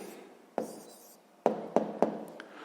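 Pen writing out the answer to a sixth-grade math exercise on paper, a few soft scratchy strokes and light taps close by in a quiet room.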